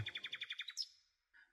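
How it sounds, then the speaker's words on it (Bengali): A small bird gives a quick, rapid trill of about nine bright chirps, then a single sharp note and a faint final peep, all close and clear against silence, used as a morning sound effect. "পাখিরা ডাকছে"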